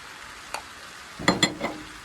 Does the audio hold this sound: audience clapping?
no